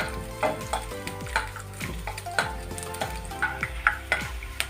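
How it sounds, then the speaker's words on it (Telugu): Fresh coconut pieces frying in a pan for sweet pongal, a soft continuous sizzle with regular stirring and scraping strokes, close and fairly quiet. "ఈ ముక్కలు బ్రౌన్ కలర్ వచ్చేంత వరకు వేయించుకోండి."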